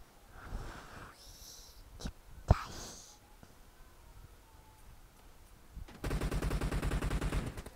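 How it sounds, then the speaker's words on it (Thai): M762 assault rifle fire in a shooter video game. A few scattered shots come first, then a loud, rapid automatic burst that sounds close and runs for about two seconds. "M762 M2 เนี่ยปืนโคตรแรงเลยยิงสู้ไม่ได้อ่ะ"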